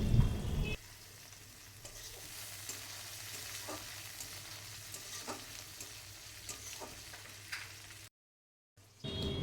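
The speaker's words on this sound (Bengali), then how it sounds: "টমেটো, আদা, রসুন এগুলো কিন্তু ভালোভাবে ভাজা হয়ে গেছে" Chopped tomato, ginger and garlic fry in a pan, a steady close sizzle broken by scraping stir strokes, ending in a brief silence before the sizzle returns.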